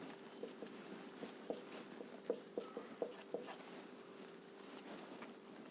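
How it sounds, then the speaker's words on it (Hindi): Pen or marker strokes scratch steadily across a writing surface during a signals-and-systems lecture, a faint run of short rhythmic scrapes with a few sharper taps, with no talking. "लिख देते हैं इसको यहाँ पर"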